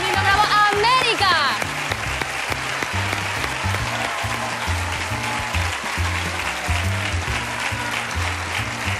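Audience applause for a singer on a Spanish TV show, a steady wash of clapping beneath a voice at the start and a rhythmic musical backing with a deep beat.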